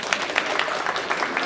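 An audience at a Korean NGO gathering claps in welcome, a brief burst of distinct, fairly close hand claps with audible individual strikes.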